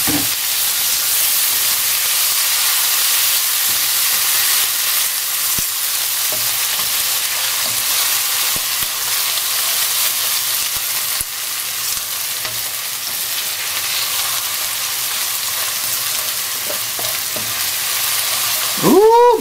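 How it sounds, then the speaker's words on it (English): Onion and garlic fry over moderate heat for a Surinamese broodje kouseband with shrimp, a loud, continuous hissing sizzle with occasional light stirring clicks throughout. "we're gonna add the onion and the garlic. And we're going to give it a good stir yet again."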